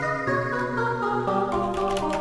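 Background music from the Magic School Bus Explores the Solar System video game, a steady layered synth tune that plays continuously at moderate volume with no voices.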